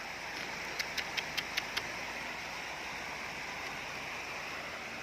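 Steady rushing floodwater roars continuously at night, with a brief run of faint rattling ticks near the start.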